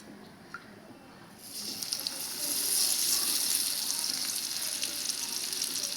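Oil poured into a pan of beetroot pieces that were roasted dry, setting off a bright, hissing sizzle that swells after a quiet start and then holds steady and close.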